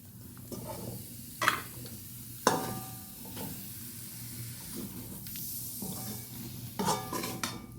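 Chicken pieces dropped into a hot pan for a Kerala-style chicken curry, with a steady sizzle and scraping spoon strokes that turn and stir, sharp clanks against the pan now and then, close up and with no talking.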